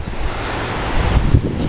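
Waves and wind on the Caspian Sea shore at Aktau: a broad, steady wash of surf under gusty wind buffeting the microphone, with a few low thumps from the gusts, loud and continuous.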